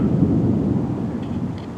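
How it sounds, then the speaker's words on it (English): Low rumbling thunder from an approaching thunderstorm rolling in over Lubbock, Texas, a steady distant roar that fills the scene without any talk over it. "and the thunder"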